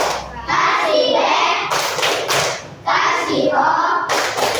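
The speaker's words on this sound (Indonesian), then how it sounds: "Ayo, tepuk wow." Children clap the rhythmic Indonesian 'tepuk wow' in a classroom, with bursts of loud hand claps and thumps in a patterned beat and voices mixed in.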